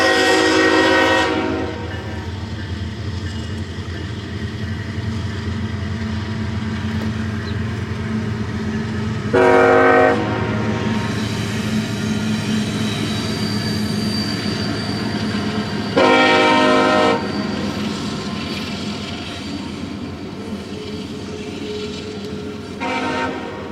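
Long freight train rolling past, a steady rumble and clatter of wheels on rail, broken by several loud horn blasts spaced a few seconds apart, close and dominant throughout.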